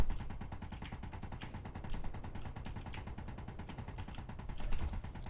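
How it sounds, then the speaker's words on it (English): An interior turret firing inside a pirate base in Space Engineers, a steady, fast stream of evenly spaced machine-gun shots, moderately loud and unbroken for several seconds. "It's gonna have a darned hard time shooting through heavy armor blocks with an interior turret"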